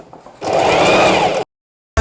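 A sewing machine with an open presser foot doubles wig tracks in one steady, close, whirring run lasting about a second, then stops abruptly.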